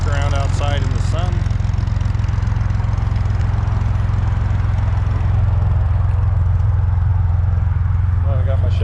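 A 1965 Corvair Monza engine fitted with aftermarket exhaust, a steady low rumble that holds evenly throughout with no revving, while a voice talks over it at times.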